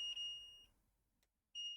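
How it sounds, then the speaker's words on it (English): Two short electronic beeps from a multimeter continuity test on a PS5 fan connector, high-pitched and steady, separated by a brief quiet pause. "if we hear a beep both ends, I'm happy"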